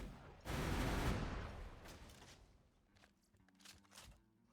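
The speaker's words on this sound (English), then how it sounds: "so this is a 29 mag rocket launcher" A 29 mag rocket launcher fires in the video game War Machine, one loud sustained blast burst that fades over a couple of seconds into scattered smaller pops and clicks.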